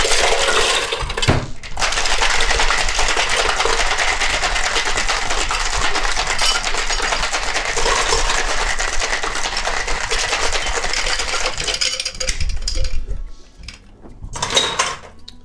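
Loud, continuous rattling shake of ice in a metal cocktail shaker mixing a Singapore Sling for about twelve seconds, then it slows and stops.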